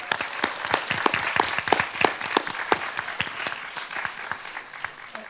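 An audience applauds students after a university talk on food and health, with dense, steady clapping from many hands filling the room throughout.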